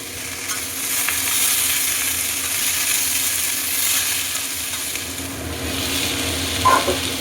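Vegetables with turmeric sizzle and fry in a pan, a steady close crackle with occasional stirring and scraping, and a brief clink near the end.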